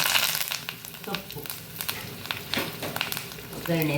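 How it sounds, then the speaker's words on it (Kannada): Mustard seeds and garlic pieces crackle and sizzle in hot oil for a tempering, a fairly faint, continuous frying hiss with scattered pops and some stirring. "ಸಾಸಿವೆಯನ್ನು ಹಾಕೊಳ್ಳೋಣ."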